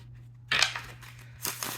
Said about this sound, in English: I do have to shuffle these 2 decks at a time because there are so many cards.